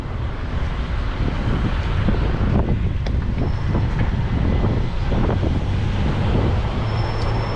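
Loud, constant wind roars across the microphone in San Francisco, a dense rumbling rush that never lets up, with faint traffic-like noise underneath.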